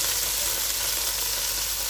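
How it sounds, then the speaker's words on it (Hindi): Chicken pieces frying in a pan for shami kabab, a dense, steady hiss and sizzle of hot oil heard close up, unbroken throughout with no talking. "चिकन डालकर चिकन को अच्छी तरह फ्राई करना है ताकि चिकन का कच्चापन ख़त्म हो जाए"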